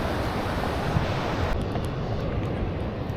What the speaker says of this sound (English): It's just like a flume of deep water through the lava rock